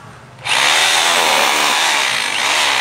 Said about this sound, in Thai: ถ้าเรากดไปมันก็จะแยกให้เราเลยพี่ดูนะ